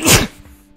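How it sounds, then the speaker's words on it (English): A single sharp sneeze bursts out close and loud at the start, then trails off into quiet breathing and faint room noise. "I'm gonna sneeze."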